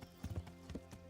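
Horse hooves clip-clop in a video game as the player rides out, a short run of soft, evenly paced steps heard close and alone with no talking.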